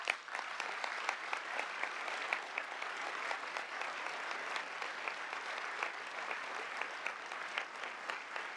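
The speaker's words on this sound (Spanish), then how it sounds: "no obstante los aplausos" A crowd of delegates applauds at a closing session of Cuba's parliament. The clapping is sustained and even, with sharper claps rising out of a dense, steady roar that carries on without talk.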